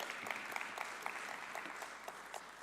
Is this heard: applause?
yes